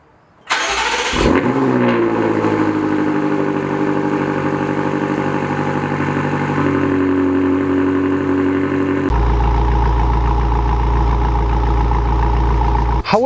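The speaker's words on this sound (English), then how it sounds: "this M5 Comp has been fitted with the titanium exhaust, which is the loudest exhaust ever fit to a BMW from the factory" A BMW M5 Competition's turbocharged, direct-injected V8 with the factory titanium exhaust fires up with a loud bark, then settles into a steady, deep, rumbling idle that shifts to a lower, heavier drone partway through.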